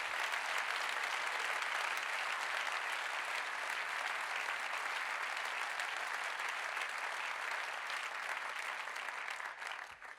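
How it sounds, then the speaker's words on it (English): Long, dense ovation from the audience at the Teddy Award ceremony, holding steady and loud for about ten seconds before easing slightly at the very end. "I think this is an applause."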